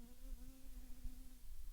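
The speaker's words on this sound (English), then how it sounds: "And lots of bees in here." Bees buzz around dahlias in a late-season flower garden in Mendocino, a steady close drone that wavers slightly in pitch as one passes near, with no voices.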